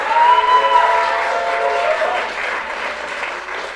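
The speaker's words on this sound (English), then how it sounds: "One more round of applause for all the Beverly High School choir groups." An audience at a high school concert applauds the Beverly High School choir groups, full crowd clapping that is strongest at the start and eases slightly, with a faint tonal hum underneath.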